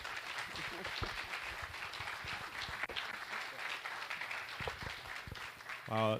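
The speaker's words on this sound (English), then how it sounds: "let us welcome you and applaud you for all this work and for your leadership" Audience applause at a press conference, sustained steady clapping from a crowd welcoming a speaker to the stage, ending as a voice begins near the close.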